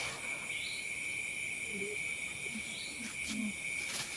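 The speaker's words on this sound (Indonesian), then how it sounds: "Jangkrik." Crickets chirp as a steady high-pitched trill that runs continuously at moderate distance over a faint hissy background, with a few soft scattered sounds underneath.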